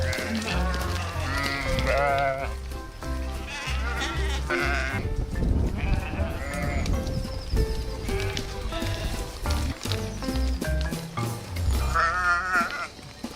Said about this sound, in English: a group of white sheep is leisurely strolling through the woods